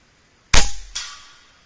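A single sharp crack from a Hatsan Flashpup air rifle filled to 200 bar, fired at a ballistic gel block 65 yards away, followed by a fainter distant impact or echo under a second later, loud and close.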